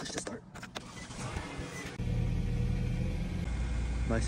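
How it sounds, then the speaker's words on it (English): A car engine turns over and catches on a frozen day, a low steady rumble rising suddenly about halfway through and holding loud to the end, after some faint shuffling and a brief whirr. "I have to turn on my car right now because she's a little frozen"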